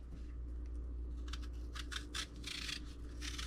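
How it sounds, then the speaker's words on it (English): An apple being peeled with a knife, heard up close as quiet, irregular scraping and slicing strokes that grow more frequent toward the end over a faint steady background hum. "So what I'm going to do is I'm going to peel the apple"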